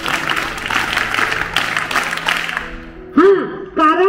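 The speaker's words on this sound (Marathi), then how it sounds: "टाळ्या वाजवा." An audience applauds at a spiritual lecture during a tree-procession gathering. The steady crowd clapping lasts about three seconds, then fades, and a voice resumes speaking.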